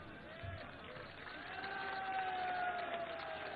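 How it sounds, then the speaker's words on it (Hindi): An election rally crowd in Ghaziabad claps and cheers, a soft, far-off wash of applause that swells slightly over a few seconds. "लेकिन आपके लिए जनता ताली बजा रही है"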